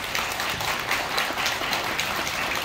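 Guests at a Korean wedding ceremony applaud at its opening, a moderate, even patter of clapping from a seated crowd.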